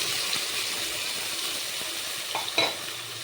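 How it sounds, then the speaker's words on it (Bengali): Chopped onions frying in a pan for a green jackfruit kofta curry, giving a steady broadband sizzle with light stirring scrapes and a brief louder burst near the end. "পেঁয়াজটাকেও ভেজে নিই একটু পেঁয়াজটাও একটু ভাজা ভাজা হয়ে গেছে"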